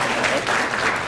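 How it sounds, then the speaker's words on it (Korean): A lecture hall audience breaks into warm applause as someone is called up to the front, a dense, loud wash of many hands clapping together throughout. "뜨거운 박수!"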